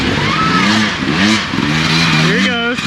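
A trail motorcycle on a rough Idaho trail revs loudly and close, its engine pitch rising and falling in repeated surges, with a voice talking over it.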